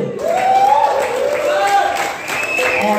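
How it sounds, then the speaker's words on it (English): Applause from an audience at a fishing tournament weigh-in and awards ceremony, steady and fairly loud throughout, with voices talking and calling out over it. "All right, give him a round of applause, Edward Whitaker."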